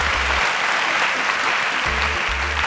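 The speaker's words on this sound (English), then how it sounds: "Please, a round of applause" A crowd claps steadily throughout, a dense, sustained round of applause with no voices standing out.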